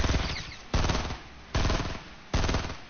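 Gunshots in the video game Fortnite, four loud, close bursts of rapid automatic fire arriving at an even pace, each cutting in sharply and trailing off before the next.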